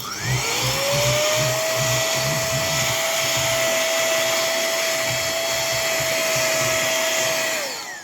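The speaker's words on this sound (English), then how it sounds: "It's called a Govac 3-in-1 vac blower and inflator, and it's by JML" A JML Govac 3-in-1 vac, blower and inflator whirs up to speed, holds a loud, steady high-pitched whine for several seconds, then winds down, heard close up.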